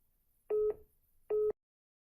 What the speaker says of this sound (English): you can hear the call waiting tone on my phone indicating I have an incoming call